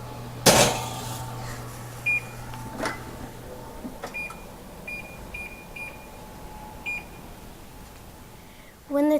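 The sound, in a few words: oven timer beeping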